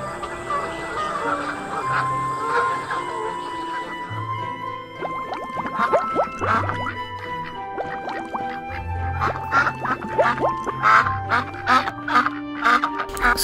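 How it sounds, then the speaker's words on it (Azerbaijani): A flock of ducks flying over a pond quack loudly and repeatedly at close range, with rapid overlapping calls that build in the second half against light background music. "Günlərin birində gölməçənin üzərindən ördəklər uçurdu."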